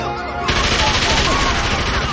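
A Tommy gun fires in a movie scene, a dense, loud burst of rapid automatic shots rattling continuously over background noise.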